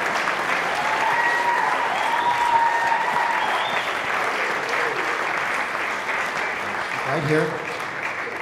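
A concert hall audience at a cancer benefit concert claps in steady, sustained applause that fades slowly near the end, as a few words are spoken.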